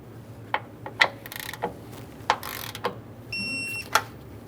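A ratchet clicks in short, separate bursts while torquing a radiator bolt on a 1994-2001 Dodge Ram 1500 5.2L V8, close and fairly quiet, with a brief tonal beep near the end.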